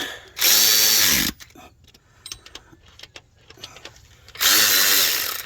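Power tool tightening the water pump bolts on a 2003 Subaru Forester with about 250k miles, during timing belt work: two loud, sustained whirring bursts with a quieter stretch of clinks and shop noise between them.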